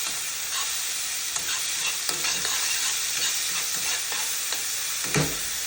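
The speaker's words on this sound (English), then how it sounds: "now I'm gonna drop in all the vegetables that I diced up," Diced vegetables sweating in a pan for criolla sauce, giving a steady, bright hiss of frying with occasional stirring knocks and scrapes, close and continuous with no talk.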